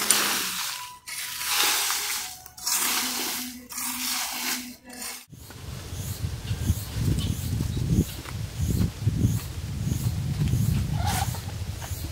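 A garden rake scrapes across a yard while someone cleans up around a house, giving bursts of scratchy, rustling strokes in an irregular rhythm, close by. A few sharp knocks come first.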